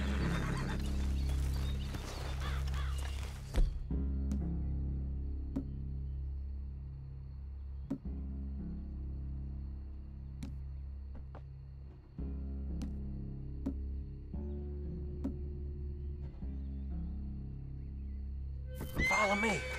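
Horses ridden up to a hillside cabin whinny loudly, with scattered hoof clops over a steady low droning background and some voices.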